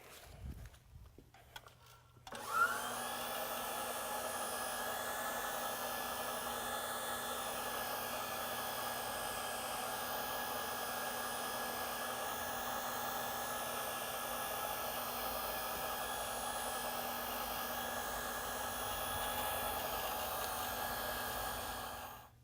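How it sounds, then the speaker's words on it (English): A floor machine dry buffs a self-leveling concrete overlay with a red pad, starting after a brief quiet moment and then running as a steady, loud, whining motor hum with a constant tone that lasts the rest of the clip. "we've just dry buffed with the red pad"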